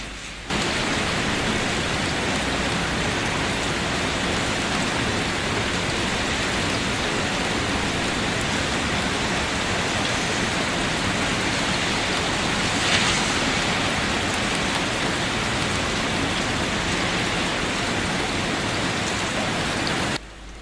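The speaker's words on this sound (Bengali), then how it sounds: "বৃষ্টির ফোঁটায় সেই টুপটাপ শব্দ, শীতল বাতাস আর চোখের সামনে বৃষ্টি ভেজা পরিবেশ" Artificial rain falls steadily and densely, pattering continuously on surfaces at a hotel in Muscat, Oman, a loud even hiss of countless drops lasting throughout.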